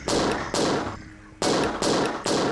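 Gunfire in a zombie survival video game: loud, close bursts of rapid shots in several spaced volleys with a short pause in the middle, no talking.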